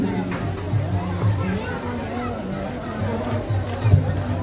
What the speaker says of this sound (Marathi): हा बघा गर्दी किती आहे